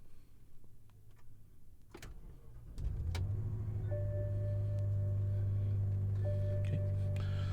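A 2010 BMW X6 cranks briefly and fires up, then settles into a steady, close idle hum with a faint high whine alongside.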